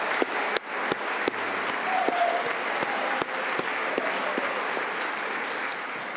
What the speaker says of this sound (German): begrüßen Sie mit mir ganz herzlich den Bundesrat Ueli Maurer